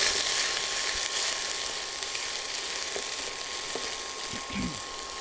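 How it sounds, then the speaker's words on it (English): Garlic, ginger, green chilies and peppercorns sauté in hot oil for pepper chicken, a steady close frying hiss with a few faint stirring clinks and a low thump near the end. "Let's add in all our crushed ingredients, which is our garlic, ginger, green chilies, and peppercorns. Okay, let's saute this."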